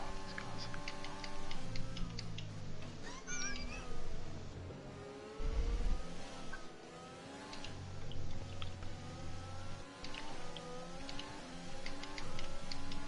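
Video game racing cars whine and accelerate, engine tones sweeping up and down with rapid ticking clicks throughout.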